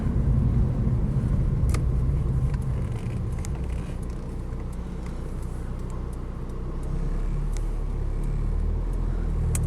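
A late flat-dash Porsche 944 with power steering drives along a road, its engine a steady low rumble from inside the car with a few faint clicks and knocks over the drone.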